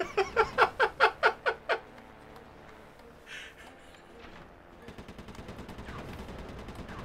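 Gunfire in the Sly 3 video game: a quick series of about eight sharp, evenly spaced shots, followed by softer game sounds and a faster, fainter rattle of shots.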